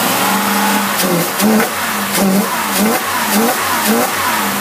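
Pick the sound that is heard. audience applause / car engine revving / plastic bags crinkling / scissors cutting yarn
car engine revving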